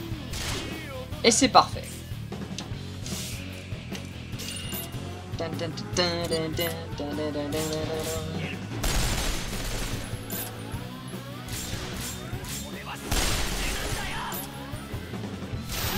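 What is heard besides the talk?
gunshots in video game Resonance of Fate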